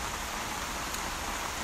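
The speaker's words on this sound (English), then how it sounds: "it's cold out here and the rain is falling" Steady rain falling on an umbrella over a patio on a cold day, an even, continuous hiss with no distinct drops standing out and no voices.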